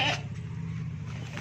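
A goat bleats briefly on a goat farm in Pakistan, a short bleat at the start over a steady low hum of background noise.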